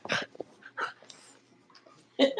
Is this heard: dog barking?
yes